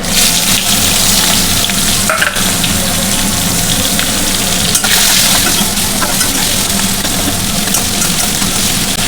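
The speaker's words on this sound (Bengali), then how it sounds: "পেঁয়াজটা একটু লাল লাল করে ভেজে নেব" Steady, dense sizzling of onions frying in hot oil until reddish, loud and close, with a constant hiss throughout and no voices.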